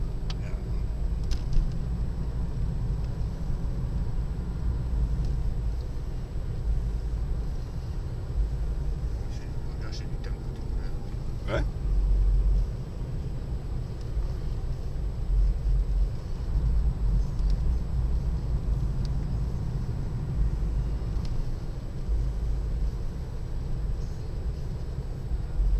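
BMW 316 coupe engine running while driving, a steady low rumble and road drone filling the cabin, with a brief swell partway through, under quiet conversation.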